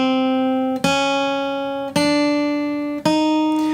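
Three sustained legato guitar notes ring out one after another, each new pluck arriving as the previous note fades, clean and close with no talking.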